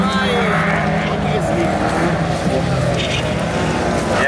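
Autocross race cars of the Swiss SAV class A on their final lap, a continuous loud engine roar with tyre noise, heard from trackside under an Italian commentator's voice.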